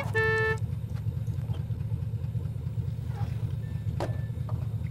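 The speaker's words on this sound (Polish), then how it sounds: "czego trąbisz?" A car horn in The Sims 2 gives one short, loud, flat honk at the start, then gives way to a steady low engine idle with faint ambient game sounds.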